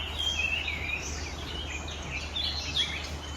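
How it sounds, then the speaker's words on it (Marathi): Flame-throated bulbul calling in Tilari forest: faint, thin high chirps come in short bursts, clearer near the start and end, over a steady low hum and soft forest hiss. "flame throated Bulbul"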